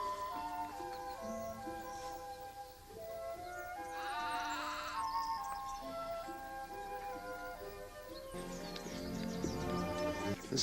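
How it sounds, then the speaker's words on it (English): A pet sheep raised from a lamb in a family barn bleats several times, wavering calls over a steady bed of other sound that swells toward the end. "This is our pet sheep"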